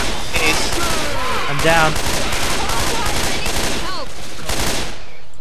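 Rapid gunfire in the Left 4 Dead 2 zombie shooter: loud, dense bursts of automatic shots crackling almost continuously, with a voice speaking briefly over the shooting.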